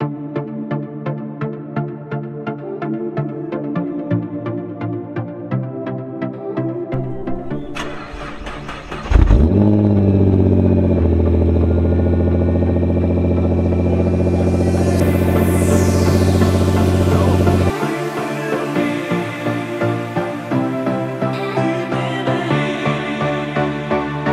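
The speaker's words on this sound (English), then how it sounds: "I haven't driven it for 2 weeks, so it'll probably sound a little graunchy on startup." A Nissan GTR engine cranks, catches with a loud roar and settles into a steady running idle that holds for several seconds, then drops back to a quieter hum.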